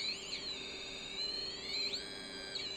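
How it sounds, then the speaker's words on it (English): An Arduino piezo buzzer driven by a light sensor as a pseudo theremin gives a steady, thin, shrill tone. Its pitch glides and bends in smooth sweeps as the light changes, and it sounds alone and close. "This is kind of a pseudo theremin that's just using light."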